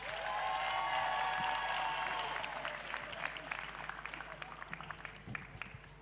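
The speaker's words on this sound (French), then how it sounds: "un maximum de bruit pour la scientifique Oyana Achigar-Ferret." Studio audience on a French youth-programme TV set bursts into loud, sustained applause for an arriving guest at an awards ceremony, with cheering whoops on top, then the clapping thins out gradually toward the end.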